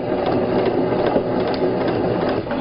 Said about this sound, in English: You are going to start with a reverse stitch.